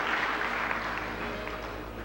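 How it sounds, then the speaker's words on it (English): A crowd at the Miss Trinidad & Tobago 1996 pageant gives a steady, continuous round of applause for Greer Samaru, sustained throughout with no talking over it. "Greer Samaru, nice round of applause, please, wherever you are"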